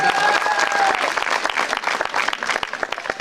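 Audience at a kabaddi match breaks into loud, dense applause, sustained claps filling the whole stretch and thinning slightly toward the end.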